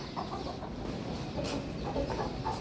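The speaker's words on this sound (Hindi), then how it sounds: "ये हमारी न्यू मुर्गी है" A hen clucks in a series of short, soft calls close by, against a steady low background hum.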